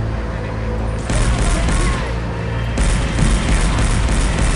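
Rapid gunfire in the shooter game SiN, dense bursts of shots and impacts stacked close together, loud and continuous with sharper surges partway through, no voices.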